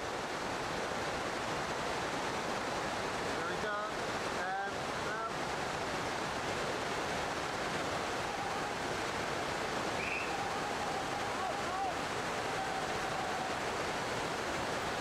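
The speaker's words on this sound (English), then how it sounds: "No difficulty with the 5-metre waterfall." Rushing mountain river water pouring over a 5-metre waterfall in a remote, inaccessible gorge, a steady dense roar filling the whole clip with no break.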